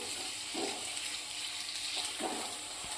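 Onions sizzle and hiss steadily in a hot pan while being sautéed for a green turmeric curry, with a few soft stirring scrapes, close and moderately loud, no voices.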